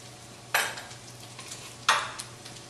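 Mushrooms sauté in a pan under a faint, steady sizzle, broken by two sharp stirring scrapes about a second apart.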